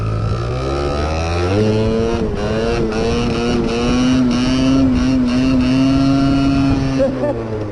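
A Honda moped's engine revs hard during a wheelie attempt, its buzzing two-stroke drone holding steady and then climbing slightly in pitch, loud and close for the whole stretch.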